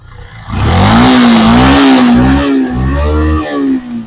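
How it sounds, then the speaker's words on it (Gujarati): Yamaha FZ-S motorcycle engine revved hard up close, a loud sustained roar that rises and holds with slight wavering pitch, briefly dipping between pulls before easing off at the end. "મિત્રો ગાડીનું એન્જિન સારું છે, તમને એન્જિનનો વોઇસ સંભળાવી દઈ"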